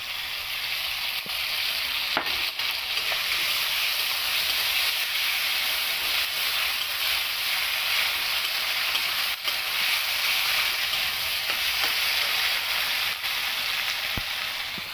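Vegetables frying in a pan with cumin-ginger paste make a loud, continuous sizzle and hiss close by, with occasional sharp stirring clicks and scrapes and no talking.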